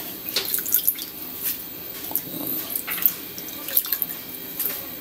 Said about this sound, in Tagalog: Binababad ko sa tubig